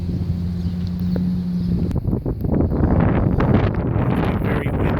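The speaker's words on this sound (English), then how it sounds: "It's very windy here." Strong wind blows outside a museum visitor center in the small desert town of Shoshone, California. It is heard as heavy microphone buffeting and low rumbling gusts, with loud rustling that builds in the second half.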